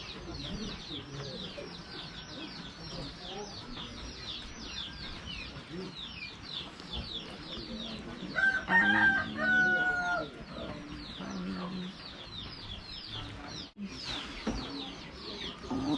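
Chickens cluck and a rooster crows in a rural hill village, the fowl sounds continuous and moderately close, with a crow rising midway and people talking in the background.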